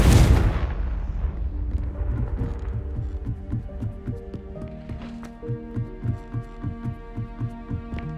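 A Confringo fire spell blast in the Hogwarts Legacy video game erupts as a loud burst right at the start, then quickly fades into low, rhythmic throbbing game music.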